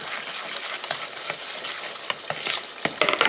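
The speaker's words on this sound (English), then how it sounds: "We're just stirring it up." Cornbread batter of oil, egg and buttermilk is stirred with a spoon in a busy kitchen. Quick uneven scraping taps come close over a constant frying hiss, with a flurry of clicks at the end.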